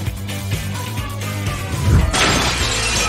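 Glass shattering indoors, a loud crash followed by a bright spray of breaking, tinkling shards that lingers for about a second.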